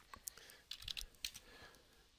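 Typing on a computer keyboard while setting part dimensions in CAD software: a few quick clusters of light key clicks, close and fairly quiet, with no talking.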